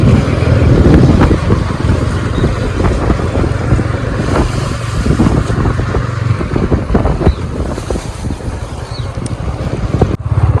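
Motorcycle ridden through Khara village toward a forest: a steady, close engine rumble runs throughout, heavily mixed with buffeting wind noise, with no break in the drone.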